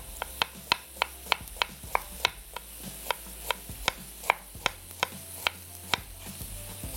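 A knife chops onion finely on a board in a steady rhythm of about twenty crisp, close knocks spread evenly over several seconds, with no talking.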